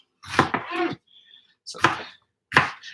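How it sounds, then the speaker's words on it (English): Three sharp knife chops on a cutting board, spaced out and fairly close, as vegetables including jalapeno peppers are cut for a fermented salsa. "I'm just, I'm chopping."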